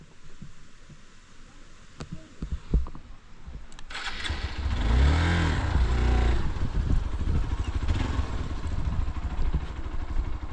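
A dirt bike engine, a Honda CRF 300L or Hero XPulse 200, gives low thumps in a quiet stretch, then fires up around the midpoint and holds a loud, close, throbbing idle to the end.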